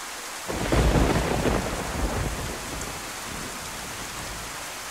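Rain falling in the video game DayZ on the Livonia map, broken by a deep rolling thunderclap that swells early, fades over a couple of seconds and leaves steady rain hiss behind.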